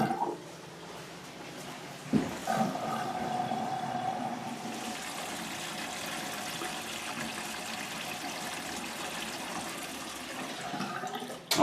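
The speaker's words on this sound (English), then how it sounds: "release the stopper, let the water run, make sure there's no leaks" Water drains from a bathroom sink through a P-trap after the stopper is released, a steady gurgling rush and trickle that starts with a clunk and runs continuously, quiet and close, with no voices.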